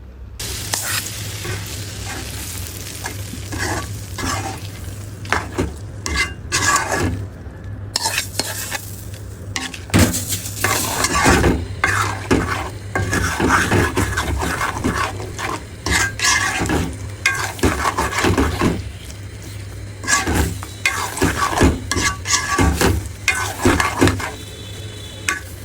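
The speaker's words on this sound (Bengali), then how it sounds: "ওই আচারটার মধ্যে দিয়া লাইমু। দিয়া খুব ভালো কইরা তেলটারে আবার মিশাই লাইমু।" Pickle being stirred into hot oil fried with panch phoron, a loud continuous sizzle under repeated scraping and clinking of a spoon against the pan, with no talking.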